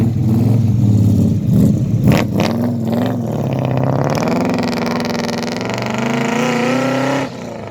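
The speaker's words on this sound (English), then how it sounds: "Listen to the nice burble out of the back." Loud, rumbling exhaust burble from a 1971 XY Falcon GT replica, heard up close as it revs and climbs in pitch, then holds a steady drone before it cuts off sharply near the end.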